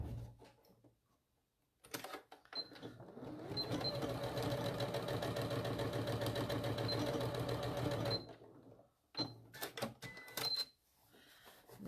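A sewing machine stitches a small fabric mini bag, whirring steadily for several seconds in one continuous run, with short bursts before and after and quiet gaps between.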